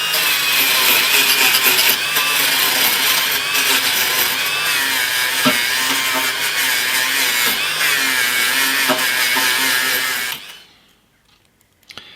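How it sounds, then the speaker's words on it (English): A small rotary wire brush polishes guitar tuning pegs screwed to scrap wood, a steady high whirring grind that runs for about ten seconds before stopping. "got my little wire brush in here, so let's give them a polish"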